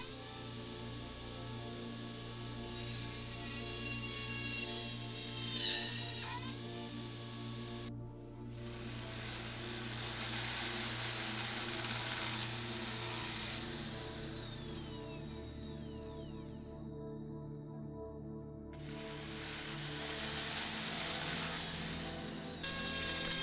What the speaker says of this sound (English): I started drilling the holes, starting with a small drill bit and then moving on to a larger one